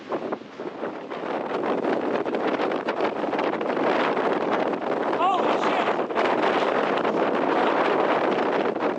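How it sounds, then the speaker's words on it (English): Strong gusts of roughly 40 to 45 mph tear across an exposed mountain pass in the Steens Mountain Wilderness in Oregon's desert, battering the microphone with loud, continuous roaring buffets throughout. "It's like 40-mile-an-hour winds, 45-mile-an-hour winds, easy."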